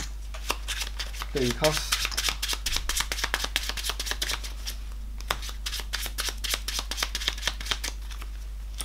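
Playing cards shuffled repeatedly during an Android: Netrunner card game, a long run of crisp riffling clicks and snaps, close and fairly loud, with people talking over and between them.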